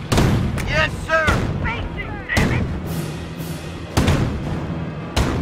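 Mortar artillery fire in the World War II strategy game Company of Heroes: about five heavy booming launches with rumbling tails at irregular intervals, loud and near, while voices talk over the barrage.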